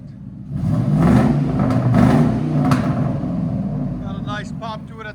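A 1999-2004 Ford F-150 with a 4.6L V8 and aftermarket exhaust revs up from idle into a deep, rising rumble, held for a few seconds before easing off as a person starts talking.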